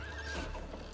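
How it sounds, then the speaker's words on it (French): A horse in the video game It Takes Two lets out a short, close whinny with hoof clip-clops underneath, all in under a second and with no talking. "Ah, le cheval."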